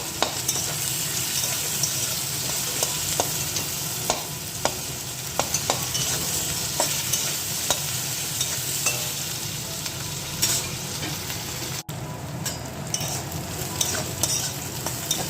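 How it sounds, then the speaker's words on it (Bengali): Three slit green chillies and onion fry together in a pan, a continuous close sizzle broken by frequent scraping clicks of a spatula stirring throughout. "এই যে কাঁচা চেরা লঙ্কা আছে তিনটে আর এই যে পেঁয়াজ একসঙ্গে এটা আমি একটু ভেজে নেব"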